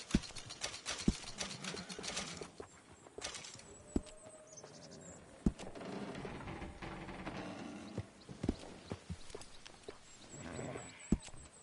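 In a video game, horse hooves clip-clop at a steady walking rhythm, fairly close, with sharp scattered hoof strikes over a low outdoor ambience and faint bird or insect sounds.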